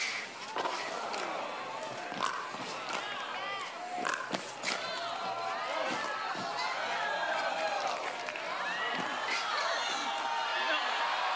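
A pickleball crowd cheers and shouts after a point in a finals match, a lively spread of whoops and chatter that stays loud throughout, with voices mixed through the cheering.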